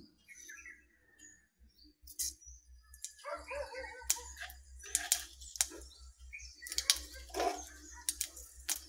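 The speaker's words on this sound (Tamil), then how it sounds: "எண்ணெய் சூடாயிருச்சு கடுகு போட்டுக்கலாம்" Mustard seeds crackle and splutter in hot coconut oil in a pan for a Tamil greens mash, starting with sparse pops and building into dense, close sizzling bursts, with no talking.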